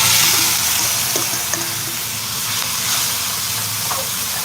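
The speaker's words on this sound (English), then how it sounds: "I'm gonna take my aromatics and just put them all in." Aromatics for stew fish fry in a hot pan with a steady, loud sizzle and hiss, broken by a few small clinks and stirring sounds.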